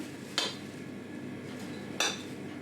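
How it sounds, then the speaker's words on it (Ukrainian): A kitchen sieve is handled before flour is sifted for a sponge cake. Two sharp, separate metallic clinks land about a second and a half apart over a quiet room background, with no talking. "Беру я ось сито"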